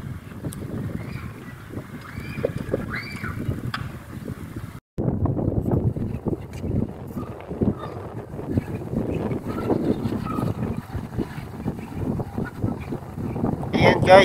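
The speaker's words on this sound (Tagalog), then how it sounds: "Narinig nyo naman yung higit ng hangin." Wind blowing outdoors rumbles against the microphone in steady, gusty bursts at close range, cutting out briefly partway through before resuming.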